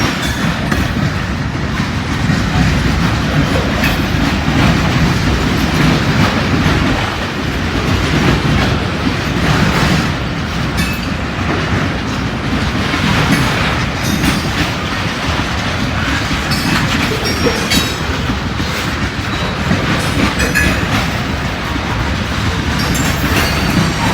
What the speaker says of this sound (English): so this might be a 2-mile train